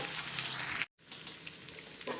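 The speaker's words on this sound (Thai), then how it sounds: "เราก็ใส่ครับ มันหมูนะครับ ลงไปเลยนะแล้วเราก็คนอีกนั่นแหละครับผม" Steady crackling sizzle of pork fat frying in a hot wok, briefly cut off by a short silence, then resuming with light stirring scrapes.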